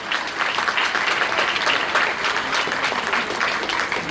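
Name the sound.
audience applause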